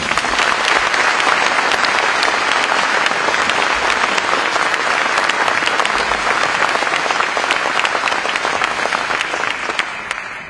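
Sustained applause from an audience at a town council New Year's address in Cavalaire, dense, loud clapping filling the whole span and tapering slightly at the end.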